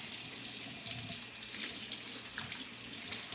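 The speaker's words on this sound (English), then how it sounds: "Turn the water back on." Water runs steadily from a tap while a Nama juicer's parts are rinsed clean. The hiss is close, broadband and unbroken, with faint splashes and clatter underneath.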